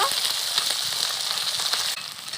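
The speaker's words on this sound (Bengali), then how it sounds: "আদা বাটা মশলাগুলোকে ভালো করে একসাথে কষে নেব" Spices with ginger paste and chopped tomato fry in a pan for a vegetarian aloo posto, giving a steady, close, bright sizzle that stays even throughout and eases slightly near the end, with no talking.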